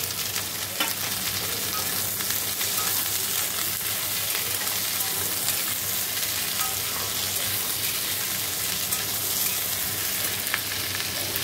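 Onion, carrot, capsicum and tomato fry in oil with garlic, ginger and chopped chilli, producing a loud, close, continuous sizzle and crackle that runs unbroken with faint scraping of stirring.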